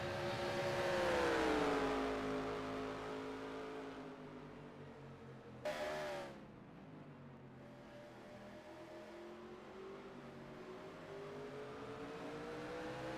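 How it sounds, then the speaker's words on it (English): Race trucks circle the Charlotte Roval road course, making a distant engine drone that rises and falls in pitch as they pass, with a short sharp burst in the middle, faint and continuous. "Jordan Walker gets cut off going into the kink there."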